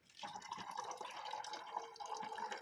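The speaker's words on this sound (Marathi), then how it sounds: "बघा मित्रांनो, असं पाणी भरायचं." Water is poured into a plastic bottle, making a steady, close trickling and gurgling fill that runs without pause for a few seconds, with no voices.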